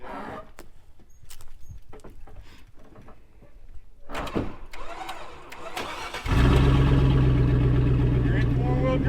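A truck door thuds and the engine cranks and starts up during a mountain vehicle recovery, then settles into a loud, steady idle-to-low rumble as it prepares to creep forward in four-wheel drive.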